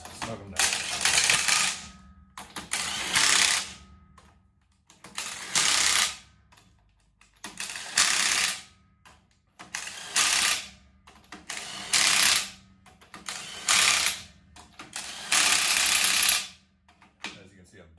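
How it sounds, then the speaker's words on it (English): A torque wrench tightens bolts on a Detroit Diesel Loadstar truck in about eight rhythmic bursts of rapid ratcheting clicks, each a second or so long and separated by short pauses, fairly close and without talking. "As you can see, I'm definitely using the torque wrench on these, right?"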